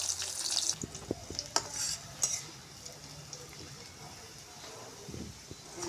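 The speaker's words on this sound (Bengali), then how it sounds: "পেঁয়াজ, এগুলো রসুন পেঁয়াজ সুন্দর করে লাল লাল করে ভেজে নেব।" Onion and garlic fry with whole cardamom and cinnamon while a spoon stirs and scrapes the pan, a close, moderate sizzle with clattering strokes early that settle into a quieter, continuous fry.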